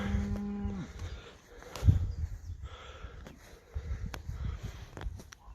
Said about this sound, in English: We love our Delaplane Primes. They're great cattle.